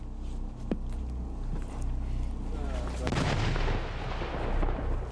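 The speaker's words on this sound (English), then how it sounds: "So this big gun that's firing now, it's not a cannon, it's a recoilless rifle." A recoilless rifle fires on a front-line battlefield in a Pakistani village, one sharp, loud blast near the start and a heavier boom around three seconds, with rumbling ambience and faint voices underneath.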